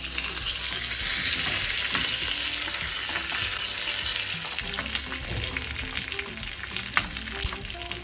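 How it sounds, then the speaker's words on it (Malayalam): Curry leaves crackle and sizzle in hot oil for a spinach pulinkari, a dense, steady frying hiss with stirring, alone and fairly loud for several seconds. "കരിവേപ്പിലിടുമ്പോൾ ഭയങ്കര ഒച്ച വരിക"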